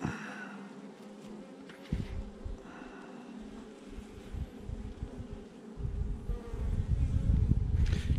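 Honeybee swarm being handled by a beekeeper, a steady insect hum with low rustling and handling bumps, growing louder and closer toward the end.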